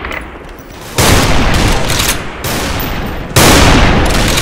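Gunfire in the online shooter Special Force 2 during a sniper-mode match comes as loud, close, dense blasts that start abruptly three times and sustain between gaps.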